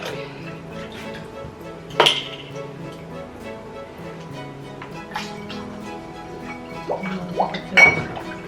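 A ladle scoops homemade cloudy apple cider vinegar into glass bottles, with sharp clinks of metal on glass, a few louder knocks, and soft liquid pouring between them, close and intermittent.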